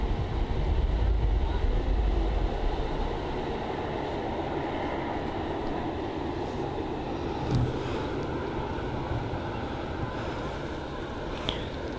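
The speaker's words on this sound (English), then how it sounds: "this prop plane which is about to depart" A propeller plane preparing to depart at Bristol Airport gives a steady, broad engine drone that holds for the whole stretch, with faint distant rumble and no voices.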